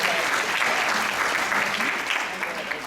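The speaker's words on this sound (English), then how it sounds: "Please give yourself a big round of applause" Steady applause from a dementia support group audience at a summit, a full, even crowd clap sustained throughout without letup.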